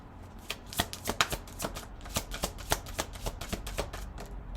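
Tarot cards shuffled up close by hand, a quick run of crisp riffling flicks and soft slaps repeating over a few seconds with no speech.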